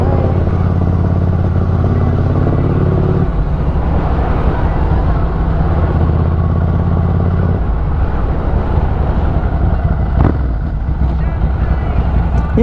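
A motorcycle engine drones steadily while it rides along a coastal road in Hawaii. The engine note holds loud and close throughout, with wind buffeting over it and a couple of shifts in pitch.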